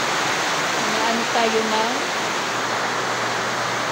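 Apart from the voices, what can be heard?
rain falling and dripping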